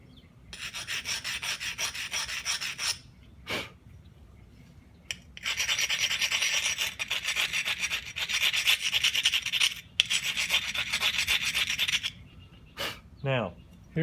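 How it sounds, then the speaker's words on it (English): A coarse abrader grinds against the edge of a flint nodule during knapping, making loud rasping strokes in long sustained bursts separated by short pauses, close up with a brief voice sound. "don't grind it too much with that coarse abrader"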